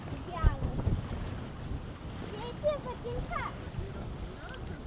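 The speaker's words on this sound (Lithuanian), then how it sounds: "tik vėjas didelis labai" Strong wind outdoors at Trakai, Lithuania, buffets the microphone with low, gusty rumbling while people talk and sounds drift in the background.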